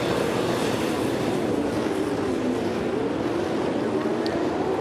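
Supercars V8 race cars roll away on the formation lap at the 2013 Darwin Triple Crown. A dense, continuous engine roar fills the whole stretch at a steady level, with a race commentator speaking over it.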